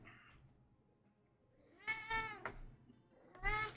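Raven, a pet cat, meows close by several times: a drawn meow around two seconds, a short chirp, then another meow near the end, over quiet room noise.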